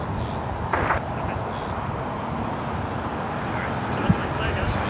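An American airliner takes off from runway 25 right at LAX, its broad jet roar holding steady and loud from start to finish while a voice speaks faintly over it.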